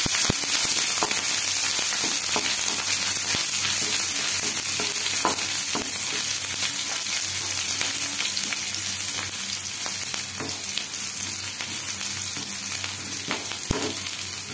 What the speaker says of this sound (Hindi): एबे रसुण छेचा और कंचा लंका को देई एपट सपट करनबा